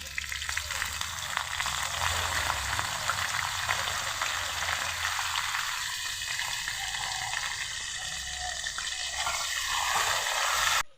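Bay leaves and chopped onion fry in hot oil, giving a loud, dense sizzle that holds steady throughout with faint stirring underneath, no voices.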